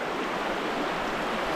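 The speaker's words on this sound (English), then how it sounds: "Cascade Creek." Cascade Creek, a mountain stream near Milford Sound, rushes past in a dense, steady broadband roar of flowing water, close and continuous with no voices.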